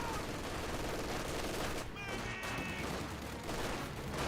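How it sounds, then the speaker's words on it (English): Vickers machine gun fire in the video game Company of Heroes 2, sustained rattling bursts mixed with other battle gunfire, loud and dense throughout with a brief lull in the middle. "Vickers firing away, hitting the conscripts."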